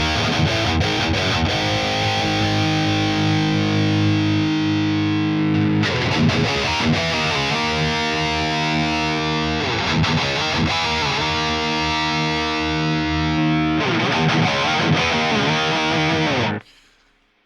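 A high-gain distorted electric guitar run through a JST Toneforge Jeff Loomis amp simulator with Bogren Digital cabinet impulse responses plays heavy chugging rhythm riffs in sustained blocks with brief pauses, loud and alone, ending abruptly.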